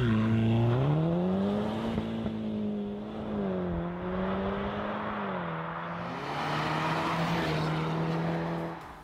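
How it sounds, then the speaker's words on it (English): A 2013 VW Golf VI Cabriolet convertible with a petrol engine drives along, its engine drone rising and falling steadily with gear and speed changes, fairly loud and continuous, with no talking. "this was the last VW Golf R Convertible, the Golf VI Cabriolet"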